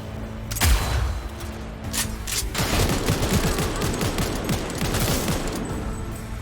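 Sustained automatic gunfire in the video game Cyberpunk 2077, during a combat mission: a loud, dense rattling fusillade of rapid shots that starts after a brief pause and keeps going without letup, with no speech.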